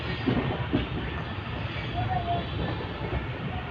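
An Indian Panchaganga Express train, number 16595, running on its rails, with a steady rumble and rolling clatter that continues throughout and stays moderately loud.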